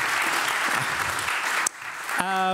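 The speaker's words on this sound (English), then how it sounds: "And maybe an applause for Mark." A burst of applause from a crowd, loud and steady, breaking off briefly before a short tonal sound at the end.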